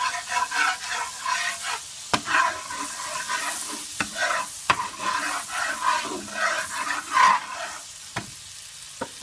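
Spoon stirring black pepper into a Korean honey butter wings sauce, with a steady scraping, swirling rhythm, a few sharp clicks against the pan and a light sizzle underneath, close up and with no talking.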